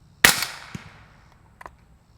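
A Wolfpack Armory Disruptor 36L air rifle fires once outdoors with a sharp, loud crack that fades quickly, followed by fainter mechanical clicks and a low rumble of wind behind it.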